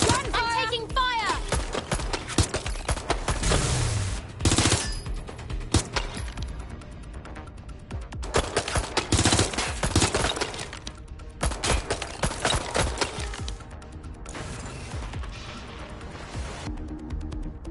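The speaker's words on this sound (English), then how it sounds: "Being shot at. Get back. I'm taking fire." Rapid gunfire from the video game Watch Dogs: Legion rattles in dense bursts, with sharp cracks mixed with music and game sounds; voices speak intermittently over the shooting.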